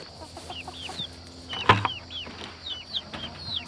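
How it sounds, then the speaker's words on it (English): A hen with her two young chicks makes soft, repeated clucks mixed with thin, high peeping. One sharper, louder squawk stands out midway against a quiet farmyard background. "her two chicks that she hatched"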